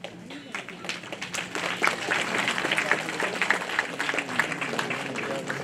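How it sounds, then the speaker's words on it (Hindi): Audience applause for award winners at a college annual prize distribution in an auditorium, a sustained crowd clapping that builds and holds steady, with a voice talking over it. "कृपया तालियों से सभागार की ऊर्जा को बनाए रखें।"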